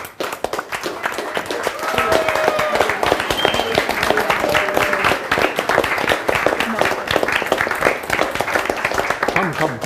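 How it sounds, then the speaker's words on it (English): Citizens and an audience give the witnesses a sustained round of applause, many hands clapping densely and loudly for several seconds after a quieter start, with voices mixed faintly into the crowd noise. "let us applaud the witnesses and the citizens"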